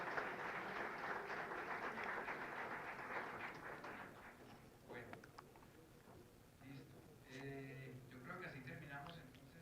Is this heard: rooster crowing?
no